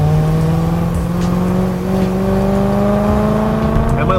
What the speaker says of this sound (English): Just listen to this car run through the gears.